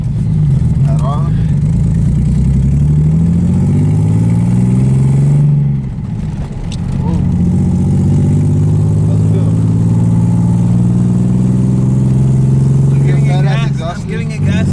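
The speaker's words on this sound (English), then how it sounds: "I'm giving it gas in second and it Doesn't go" A Nissan 300ZX that runs badly strains in second gear, its engine droning and revving up weakly in long, loud rising pulls with a brief dip between, heard close from inside the car.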